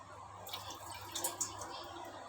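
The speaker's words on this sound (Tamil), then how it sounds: "டேப்லேருந்து தண்ணி சொட்டுறது" Water drips from a household tap in a few soft, irregular drops, faint and close against a low steady background hum.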